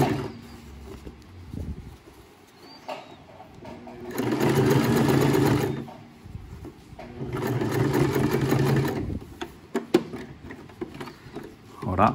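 Home sewing machine stitching thick material, two loud bursts of rapid needle hammering separated by quieter pauses, close up, with a voice talking softly in between.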